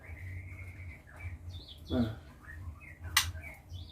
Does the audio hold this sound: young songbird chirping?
yes